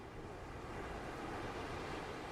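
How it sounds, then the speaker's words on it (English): Distant ocean waves give a continuous soft wash of surf, steady and faint with a windy hiss, no voices or distinct breaks standing out. "waves in the distance."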